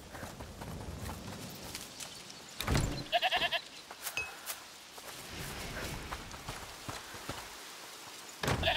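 A goat bleats in A Plague Tale: Requiem, a few short quiet calls against soft hoof-like clops and light ambient noise, with brief louder knocks in between.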